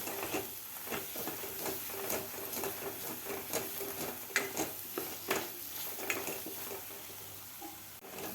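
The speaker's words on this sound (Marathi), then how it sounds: "त्याला व्यवस्थित हे मसाले परतून घ्यायचे आहेत." Byadgi chili powder and whole spices sautéing in a pan, a soft continuous sizzle with intermittent scraping and stirring clicks of a spoon against the pan, fairly quiet and steady, with no talking.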